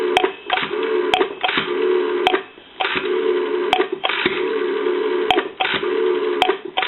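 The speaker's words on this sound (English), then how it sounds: "Okay, so now what we can do, give you some dial tone." Dialing on a GPO P&T 606 rotary dial desk telephone from Ireland: a steady, band-limited line tone is broken by sharp clicks and short gaps spaced about a second apart as digits are dialed.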